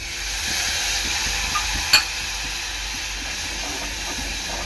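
Water poured into hot Agri Koli masala in a pan gives a steady, fairly loud hiss of steam and bubbling, with one sharp clack of a utensil partway through.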